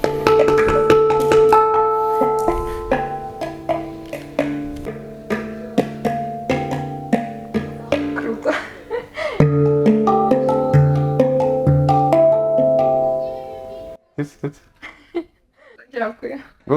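A hang drum rings out bell-like tuned metal tones in a flowing sequence of struck notes with long sustain, played up close, ending in a few sparse taps.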